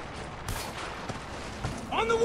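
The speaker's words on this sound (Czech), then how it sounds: "Ty kdo tam furt střílí po sobě?" Gunfire in the video game Spec Ops: The Line, a sharp shot near the start followed by scattered fainter bursts under a steady background rumble.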